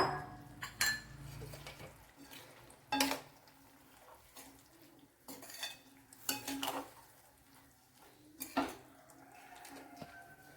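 Well-cooked cow peas being tipped into a pan, faint intermittent clinks and scrapes of a metal spoon against the pan with quiet gaps between, no talking.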